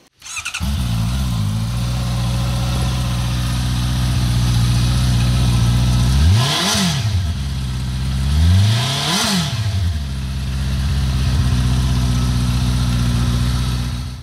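A Honda CBR650R four-cylinder motorcycle engine idles with a steady, even, smooth thrum, twice revving up briefly and settling back down, with no talking.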